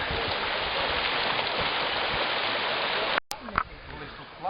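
The Strypa river flows through a canyon near where it joins the Dniester. It makes a steady, full rushing sound that cuts off abruptly near the end, followed by quieter water noise.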